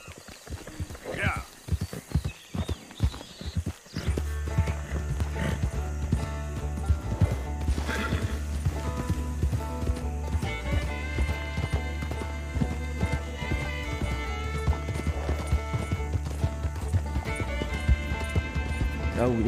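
A horse in a video game set on Guarma island clip-clops at a running pace with a short whinny near the start, then continues under steady layered game music and ambience.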